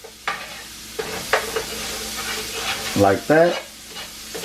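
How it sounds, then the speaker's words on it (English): Turkey wings sauté in a pan, with a soft sizzle under a few scraping stirs, and a voice speaks briefly near the end. "You don't want to burn them, just saute them."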